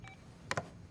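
A telephone gives two quick, loud electronic bursts close together, standing out against a quiet room with no talking.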